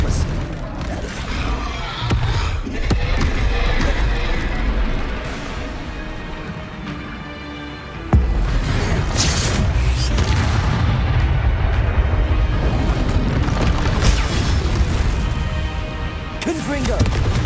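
Spell explosions in the Hogwarts Legacy game boom and crash repeatedly amid dense, continuous combat noise, with a voice shouting incantations throughout.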